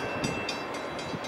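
A Norfolk Southern double-stack freight train rumbles past with steady broadband roar and periodic clacking of wheels over rail joints, loud and close.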